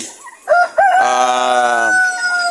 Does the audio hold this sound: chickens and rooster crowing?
yes